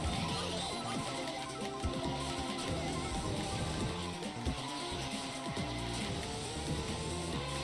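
Karts race around Mario Circuit in Mario Kart DS, with buzzing engine tones that rise and shift in pitch over looping background music, steady and busy throughout with no voices.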